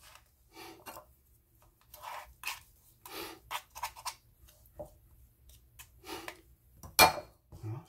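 Blueberry buckle batter being mixed by hand in a bowl, repeated short scraping and clinking strokes of a utensil against the bowl in an irregular rhythm, close and fairly quiet with brief pauses between strokes.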